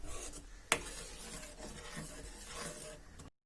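Pumpkin pudding mixture being stirred in a pan, a steady soft rasping scrape with one sharp knock near the start, moderately quiet and continuous, with no voices.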